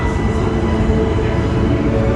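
Low, steady rumble of a train passing close by at the Islands of Adventure theme park in Universal Orlando, a dense continuous roar with no voices.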